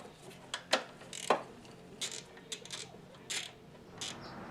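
Metal tools clicking and clanking sharply as bolts on a Geo throttle body are broken free, a string of short ratchety knocks and creaks spaced irregularly, close by with no talk.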